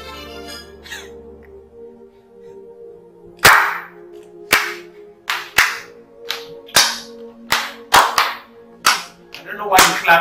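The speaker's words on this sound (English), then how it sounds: "I don't know why you're clapping for me because I have won no award." Someone claps in a dramatic scene, a run of about a dozen sharp, close, irregularly spaced slaps of the hands that follows a quieter stretch holding a low hum and faint voices.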